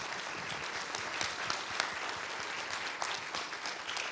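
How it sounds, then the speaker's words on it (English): Hearty applause from the audience at a 2015 city council candidate forum, steady dense clapping throughout with no voices over it. "I would ask you to give all candidates and Mr. Boyer a hearty round of applause and welcome."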